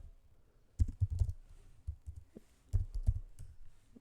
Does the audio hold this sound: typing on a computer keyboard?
yes